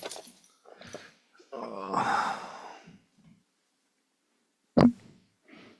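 A dog growls low and sighs heavily in short bursts, close by and in a quiet room, with one sharp thump or bark near the end.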